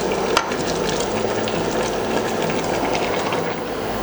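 Chorizo and black pudding frying in a pan for a garden pea and poached egg stew, a steady close crackling sizzle that runs throughout with a brief sharper spatter near the start.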